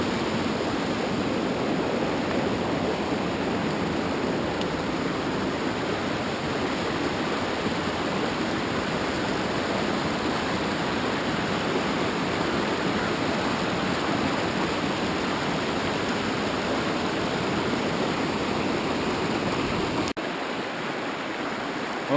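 A creek at the bottom of a deep canyon on the Oregon North Coast rushes with a steady, dense wash of flowing water, loud and close, with no voices or pauses across the full twenty seconds.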